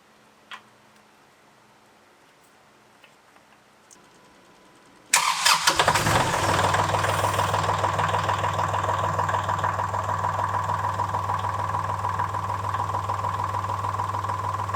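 Kubota L3560 tractor engine cranks and fires after about five seconds of near silence, then settles into a steady, loud diesel idle with a ticking rhythm, heard close with no talking.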